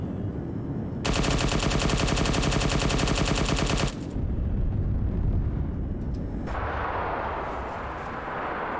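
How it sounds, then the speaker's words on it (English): Cannon barrage fired from low energy cannons in a Star Wars Mandalorian video game: a dense, loud run of rapid repeated blasts for about three seconds, then rumbling explosions and a hissing wash of debris. "low energy cannons to try and do a barrage with that"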